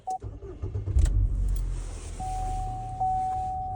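A car engine cranks briefly and catches, then settles into a steady idle while a tonal beep from a scan tool sounds in the background, close and fairly loud.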